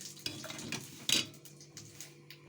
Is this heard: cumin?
yes